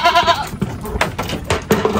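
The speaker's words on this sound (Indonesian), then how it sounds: "jadi ini kambing Pak Darjo" Several goats bleat loudly and close by in a pen at a forest homestead, with overlapping, wavering cries in quick succession against a busy, noisy background.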